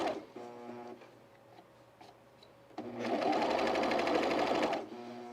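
A sewing machine hums quietly as it stitches the side seam of a dress, then runs faster and louder for about two seconds in a steady whirring burst before slowing again.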